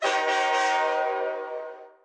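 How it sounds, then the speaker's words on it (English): A Lego train horn, played as a sound effect from the Powered Up app, blows one sustained, loud, harmonic blast that fades slightly before cutting off. "you can have some fun with some train sounds"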